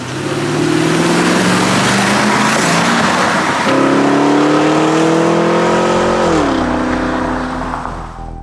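Porsche engine revving hard on the road, loud and close, with rising and falling pitch through gear changes and continuous acceleration roar, no talking.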